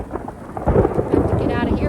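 Deep rolling thunder rumbling through a storm outdoors, loud and close with rain hissing underneath across the whole stretch.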